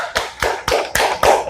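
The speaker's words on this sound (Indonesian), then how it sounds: "Tepuk tangan untuk kelompok 2." Five sharp, evenly spaced claps ring out in a classroom for a student group after their presentation, each a crisp close-up smack with a short decay.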